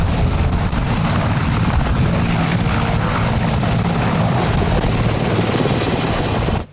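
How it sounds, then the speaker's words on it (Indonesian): A yellow Basarnas rescue helicopter drones loudly and continuously, its rotor and engine roar holding steady and close throughout before cutting off abruptly at the end, with no talk. "Wih, helikopter Basarnas warna kuning."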